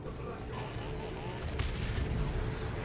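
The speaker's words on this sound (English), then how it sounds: "They're actually Eldar rapid firing missile launchers." Eldar rapid-firing missile launchers in a Dawn of War 2: Retribution 3v3 battle unleash a dense, continuous barrage of booming, crackling shots, the volley swelling louder toward the end over steady battle noise.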